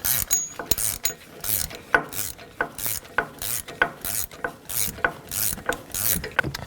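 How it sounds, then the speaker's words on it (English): A 17mm ratchet wrench tightens the front shock nut on a 1999-2007 Chevy Silverado 2500HD, making a steady run of close, crisp ratcheting clicks, roughly two strokes per second, with no talking. "Take a 17mm ratchet wrench, and while holding the top part of the shock,"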